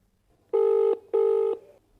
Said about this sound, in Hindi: चलिए फोन लगाते हैं